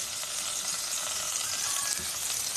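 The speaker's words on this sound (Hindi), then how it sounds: "आपने इसको अच्छे से सौते करना है ताकि ये अच्छे से मिक्स हो जाए" Flour sautéing in a tablespoon of oil in a pan, a steady soft sizzle with faint stirring, quiet and close, no talking.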